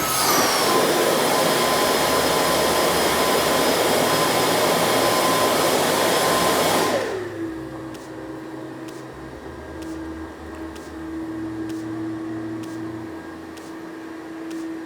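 Pieps Jetforce avalanche airbag pack inflating: its electric fan roars loud and steady with a high whine for about seven seconds, then winds down to a lower hum with faint regular beeps over it.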